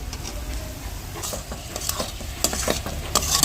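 Boiled soybeans being stirred into roasted spices in a hot pan, with a steady sizzle of frying and a few scraping strokes of a spoon getting louder toward the end.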